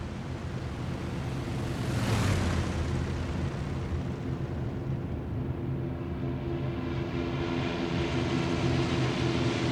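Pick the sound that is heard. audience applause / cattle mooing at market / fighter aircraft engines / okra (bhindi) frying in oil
fighter aircraft engines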